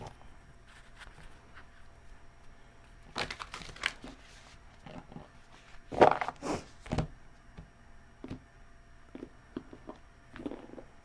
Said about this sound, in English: All right, we'll do one more shuffle.